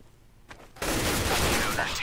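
Counter-Strike gunfire on de_dust in a competitive match, a quiet lead-in with a couple of faint shots, then a sudden loud burst of rapid automatic fire that keeps going to the end, with a commentator's voice underneath.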